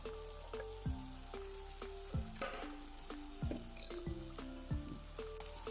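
Curry leaves are added to a hot tadka of desi ghee and crackle and sizzle in the pan. A soft, steady frying hiss runs throughout, with faint taps and spits.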